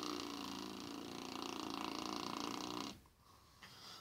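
Lips buzzing into a didgeridoo produce a steady, loud, rich drone with strong harmonics that holds for about three seconds, then cuts off abruptly into near silence.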